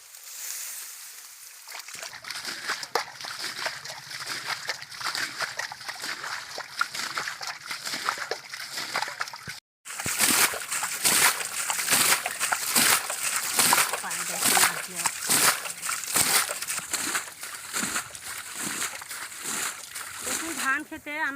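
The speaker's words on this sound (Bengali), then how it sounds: "এই ধান খেতে অল্প একটু জল আছে, এই ধান খেতে মাছ ধরবো।" Hands splash and slosh through shallow water in a paddy field while catching small fish, a loud rhythmic splatter close by with a brief pause partway through, and people talk over it.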